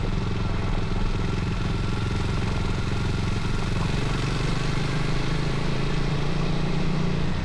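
A Kawasaki W230 motorcycle rides along a steady, unbroken engine drone mixed with dense wind rush, its pitch shifting slightly midway, with no other sounds standing out.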